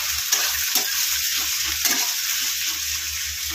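Onions sizzle steadily in a hot pan while a spoon stirs them, with a few scraping strokes standing out over the constant close frying hiss.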